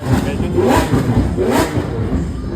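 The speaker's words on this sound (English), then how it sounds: "Oh, something sounds like a Lambo. Yeah, it is a Lambo over there." A Lamborghini Aventador revs at an outdoor supercar meet, its engine rising and falling in two surges amid steady crowd noise, with people talking nearby.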